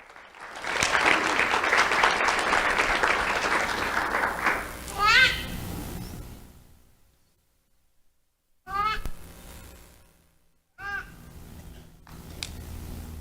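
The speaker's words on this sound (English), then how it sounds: "Let's have a round of applause for Adrien Stone" Audience clapping at a youth awards ceremony, a dense burst for several seconds that fades to silence, followed by short honking bird calls and brief sounds.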